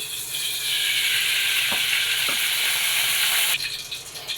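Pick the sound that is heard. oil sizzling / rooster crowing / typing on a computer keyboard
oil sizzling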